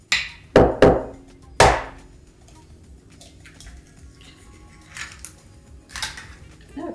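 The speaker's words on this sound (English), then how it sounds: "crack the eggs in on the other side, and then whisk them up with the fork" Eggs rapped against a bowl rim for banana pancake batter, four sharp cracking knocks in quick succession, followed by quieter tapping and clinking of a fork whisking in the bowl, close by.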